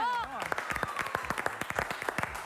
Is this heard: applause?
yes